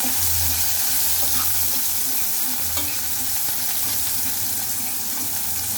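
Onions sautéing in oil in a pan for crab curry, a loud, dense, continuous sizzle with stirring movements throughout, close up and without speech.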